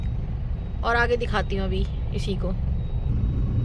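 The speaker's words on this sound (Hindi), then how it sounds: "सॉरी ट्रैफिक जाम हो गया, मतलब रेड लाइट हो गई" Road traffic idling at a red light, a steady low rumble of engines throughout, with someone talking over it.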